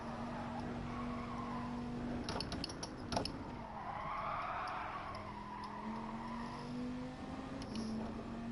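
A racing car in a video game slides through a corner, a steady engine drone with tyre scrubbing and a short burst of clatter midway, heard alone at moderate level.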